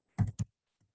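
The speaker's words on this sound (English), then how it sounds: "And here you have to type in pop-up" A few quick keystrokes on a computer keyboard, three crisp close clicks in rapid succession then a faint soft tap, in silence.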